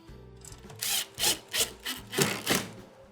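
Number 2 Phillips screws are driven by hand into wood to mount a KitchenAid oven, giving six or so short, rhythmic grinding squeaks close up.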